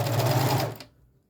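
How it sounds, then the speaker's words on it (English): A sewing machine runs steadily for most of the moment, working a seam while sewing a phone pocket, then stops and its hum fades out to quiet; loud and close, with no talking. "you can turn off your machine, whether it be a serger or a sewing machine"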